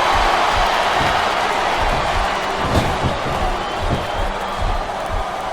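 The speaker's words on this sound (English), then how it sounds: "listen to that chant, Taz." A large arena crowd chants and roars continuously in the video game WWE SmackDown vs. Raw 2007, a dense wash of noise, with a few sharp thuds and bangs rising briefly above it.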